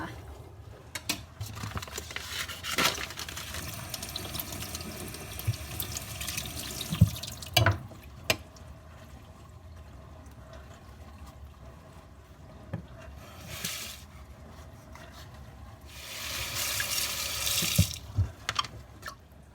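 Frozen cassava from a packet being washed under a running kitchen tap, a steady wash of water with splashes and brief surges, louder bursts near the end, with no talk.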